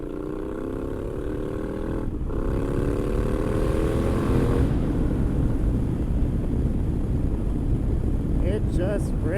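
Triumph Scrambler 1200 motorcycle launching hard from a standstill, engine note rising steadily through the gears under heavy wind rush, loud and close throughout, with brief voice sounds near the end.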